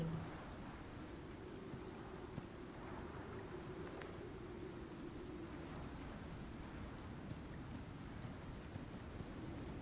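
Rain in the video game Icarus falls as a faint, continuous wash of patter with a low rumbling undertone, steady throughout with no voices.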